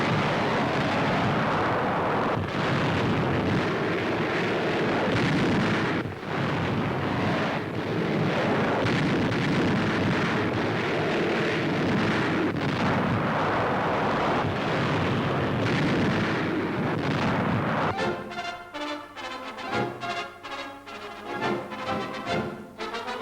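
Bombs dropped at a bombing school for air cadets explode in heavy, rumbling blasts over a roaring aircraft drone, a dense, loud barrage that thins into choppy bursts near the end.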